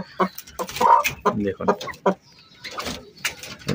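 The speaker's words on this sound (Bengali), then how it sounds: "মুরগিগুলো মেনলি ভেঙে দেয়, দেখুন কীভাবে খাচ্ছে।" Chickens cluck in short, close, choppy bursts as they peck at broken eggshells, with a person talking in between.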